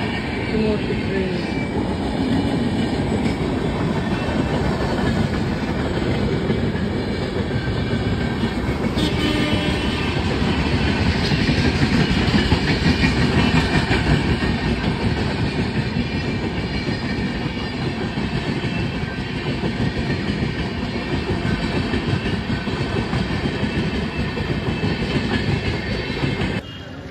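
A big train rolls past steadily and loudly for the whole stretch, with dense rail rumble, wheel clatter and occasional squeal, close by and unbroken.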